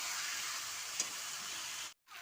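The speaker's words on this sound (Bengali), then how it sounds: "আমি মশলাটাকে ভেজে নেবো, ভাজা হয়ে গেলে তার পরিমাণ মতন জল দেবো।" Spice paste fries in a pan for a Bengali fish curry, making a soft, even hiss that runs steadily and then breaks off briefly near the end. Nobody speaks.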